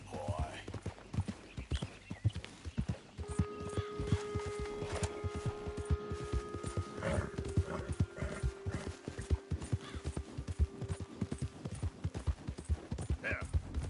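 Horse hooves clip-clopping in the video game Red Dead Redemption, a steady walking rhythm of close, distinct hoof falls with a voice talking over them and soft tonal game ambience.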